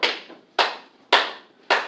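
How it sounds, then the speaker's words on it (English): Four separate hand claps ring out at an even, unhurried pace, each a sharp crack followed by a short reverberant decay in a room. "you can clap"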